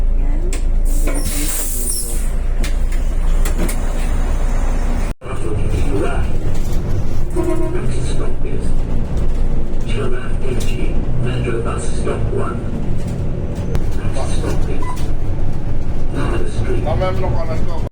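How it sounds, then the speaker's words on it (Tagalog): Interior of a moving bus, steady low road rumble with rattles and clunks throughout, a person talking over it. "Ito yung aking bus."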